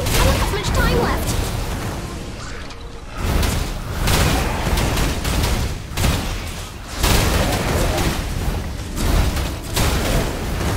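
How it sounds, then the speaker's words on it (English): Cannons pound a hideout in Torchlight Infinite, throwing out repeated heavy booming bursts over roughly ten seconds beneath a constant loud battle din, with voices heard through the barrage. "The cannons are still raining fire down on the hideout."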